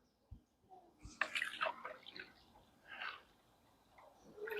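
Washing-up liquid is stirred by hand into a container of water, giving soft close sloshing and gentle splashing swirls with a few faint drips, quiet throughout.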